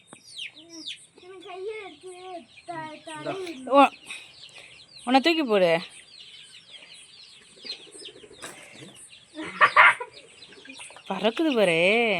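Young country chickens cluck and peep in scattered bursts, some close and loud, with people talking intermittently nearby.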